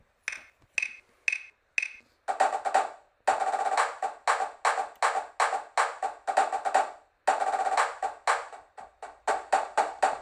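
Snare-like drum hits ring out in rapid, sharp patterns, some doubled flam strokes, playing a steady rhythmic passage with short pauses, close and clear; improved Finale notation software playback.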